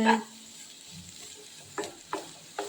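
Mixed vegetables for fried rice are stirred in a hot pan. A sharp sizzle at the start is followed by a quieter hiss and three brief scraping stirs near the end.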